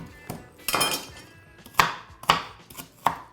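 A knife chops an onion finely on a cutting board, with close, sharp strikes in an uneven rhythm, about half a dozen distinct chops, loud and with no talk.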